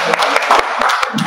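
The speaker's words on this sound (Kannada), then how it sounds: "ಜೋರಾಗಿ ಚಪ್ಪಾಳೆ" Short burst of audience applause at a new-year calendar release ceremony held by a community association in Abbigere, dense clapping filling the moment without speech.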